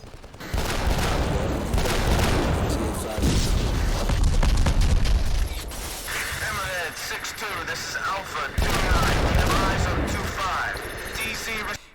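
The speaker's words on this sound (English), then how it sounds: "Explosions and gunfire are loud, unrealistically sounding" Loud, dense video game gunfire rattles in rapid bursts mixed with booming explosions, continuous and chaotic, with voices shouting intermittently under the battle noise.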